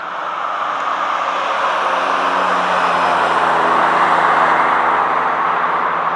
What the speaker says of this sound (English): 7 and Mike Curry are on the back bumper as they work their way down the front stretch.